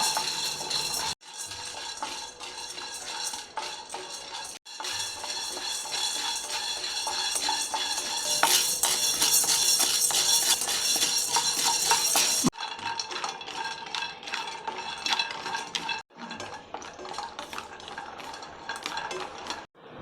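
Rice dry-roasts over low heat while a spoon stirs it steadily in a pan, giving a continuous gritty scraping and rustling broken by a few brief pauses and light clinks.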